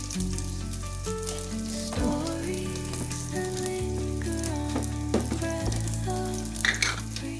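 Urad dal fries in hot oil for a lemon rice tempering, a steady hissing sizzle that sits beneath loud, prominent background music for the whole stretch.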